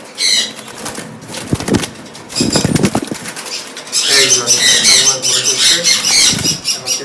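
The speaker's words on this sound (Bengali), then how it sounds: "তার আগে আমি তো আপনাদেরকে পাখিটা ধরে দেখাবো" A green parakeet caught by hand in a cage, with bursts of wing flapping and rustling followed by loud harsh squawks, close by, while a person talks.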